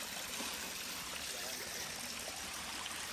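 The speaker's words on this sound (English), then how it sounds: "Came to our first little waterfall right next to that cave." A small waterfall and creek beside a cave on a hiking trail produce a constant, even rushing hiss of flowing water, moderately distant and uninterrupted.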